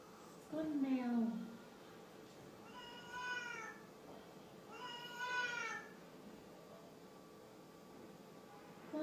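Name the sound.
child imitating a cat meowing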